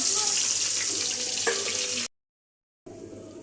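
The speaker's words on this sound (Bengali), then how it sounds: "পেঁয়াজটা আমি হালকাভাবে ভেজে নেবো" Onions fry in a pan after fish, giving a bright continuous close sizzle that cuts to silence for a moment and then returns more quietly.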